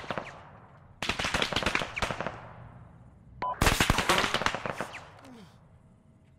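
Heavy gunfire during a military field training exercise: two bursts of rapid, sharp shots, each lasting over a second and fading into echoing reverberation, with quieter single cracks and distant rumble between them.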